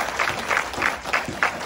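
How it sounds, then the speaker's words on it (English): A small group applauds at a martial arts gym for a blue belt promotion, a quick burst of rhythmic clapping up close that lasts under two seconds, with faint crowd murmur underneath. "Clap it up, guys."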